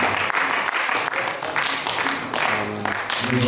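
A church congregation applauds and claps together during a worship service, a steady wash of clapping that swells and dips over a few seconds, with voices mixed into the crowd noise.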